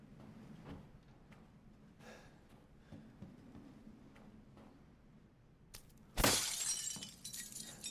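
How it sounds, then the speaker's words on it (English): Glass shatters in Resident Evil Village in VR mode: a single sharp, bright crash with a short tinkling tail after a quiet stretch of faint footsteps and movement. "Breakable glass for no reason."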